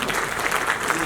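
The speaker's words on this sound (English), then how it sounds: "Please give a huge round of applause for Mr. Chinappa." Dense, steady applause from an audience at an Oxford-style arbitration debate, honoring Mr. Chinappa; a continuous wash of many hands clapping at moderate loudness throughout the short stretch.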